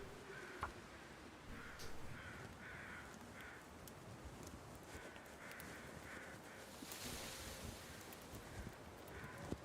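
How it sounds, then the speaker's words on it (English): Strong wind blows steadily in a survival video game at Interloper difficulty, a dense low roar with gusty swells, while a few harsh crow-like caws come and go in the distance. "It's really windy right now"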